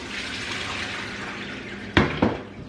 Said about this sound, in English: you just pour boiling water over them